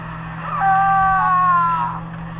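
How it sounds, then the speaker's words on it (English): A voice in Star Wars: The Old Republic lets out a sustained, strained cry of pain lasting over a second, wavering in pitch above a steady low hum, with no words spoken. "Scream, weakling."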